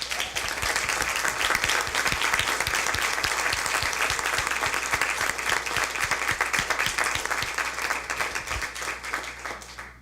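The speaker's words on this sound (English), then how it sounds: "give them a round of applause" A school board meeting audience (NUSD) breaks into steady, close, full-room applause lasting the whole ten seconds, with many hands clapping briskly and evenly.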